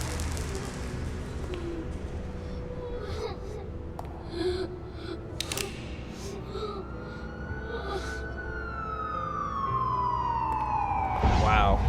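A police siren from the Batman Telltale Series video game wails, its rising sweep growing loud near the end, over game music and ambience with brief voices.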